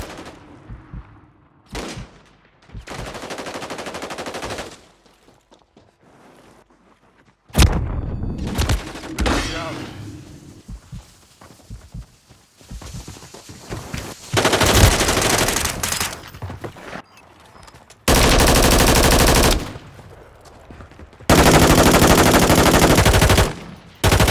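Bursts of automatic gunfire in a Call of Duty video game match, several sustained loud volleys broken by quieter gaps with scattered shots and impacts, close and harsh with no talking.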